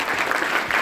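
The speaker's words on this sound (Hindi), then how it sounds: "तो सभी ग्रुप के लिए एक बार जोरदार ताली।" Students applaud the quiz groups at a school science and maths club quiz competition, a brief burst of dense clapping from a room full of hands, loud and even.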